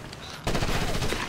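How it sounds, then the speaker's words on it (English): A burst of automatic gunfire from the video game Ghost Recon Advanced Warfighter 2 erupts suddenly after a brief lull, dense rapid shots at close range that run on loudly to the end. "Taking the shot!"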